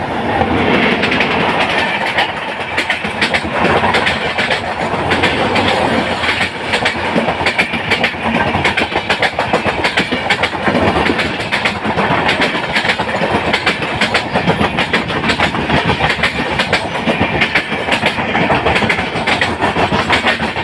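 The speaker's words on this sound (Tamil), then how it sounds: "நம்ம கொன்கன் ரயில்வேயின் queen train number 16345 Lokmanya Tilak Thiruvananthapuram Netravati express வருது." Netravati Express passenger train, Lokmanya Tilak to Thiruvananthapuram service, passing through Nellayi railway station: a loud, continuous rumble with rhythmic clickety-clack of wheels over rail joints, close and sustained throughout without speech.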